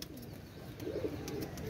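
Oman teddy pigeons cooing softly, a low murmuring coo repeating at a moderate distance against steady background noise.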